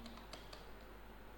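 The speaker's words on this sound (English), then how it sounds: "here I am typing" Typing on a laptop keyboard: a few quick soft key clicks at the start, then faint clatter fading into a steady low hum.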